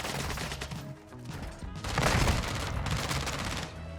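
Shotgun and rifle fire in the Call of Duty MW2 video game, a dense, continuous fusillade of overlapping shots with a louder burst midway, no talking.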